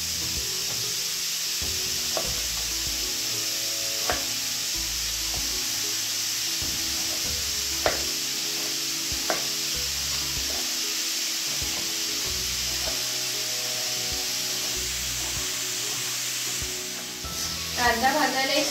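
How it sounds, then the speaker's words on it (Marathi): Onions fry in a pan with an even, dense hiss of oil close by, a few faint taps and scrapes of a utensil scattered through, the sizzle rising briefly near the end. "कांदा एका साईडला भाजतोय"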